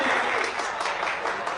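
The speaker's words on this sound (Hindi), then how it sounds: "तो इनके लिए जोरदार तालियां।" Audience applause fills the whole short moment, a dense, steady wash of many hands clapping at close range with no voices over it.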